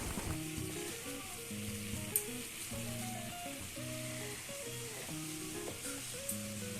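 A pot of water comes to a boil for tea in a home kitchen, a steady soft bubbling hiss running throughout with faint background tones.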